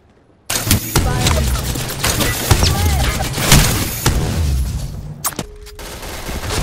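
Rapid gravity cannon gunfire in a shooter video game, a dense loud stream of blasts and booms lasting several seconds, then a few scattered shots.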